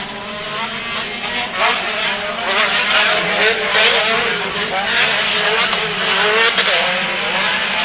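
Pro Buggy off-road race buggies with Ecotec engines race on the short course at Glen Helen Raceway, engines roaring and revving steadily in the distance while a commentator talks throughout.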